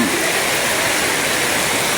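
Torrential rain pouring over a flooded Tundo street, a constant, loud rushing hiss that stays even throughout.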